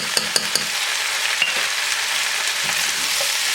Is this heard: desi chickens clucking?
no